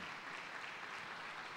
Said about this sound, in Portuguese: Vamos aplaudir o Senhor por essas vidas.